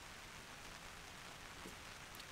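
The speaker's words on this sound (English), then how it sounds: "The rain has started again." Rain patters on an MSR Hubba Hubba NX 2 tent, a faint, steady hiss of drops with no voices.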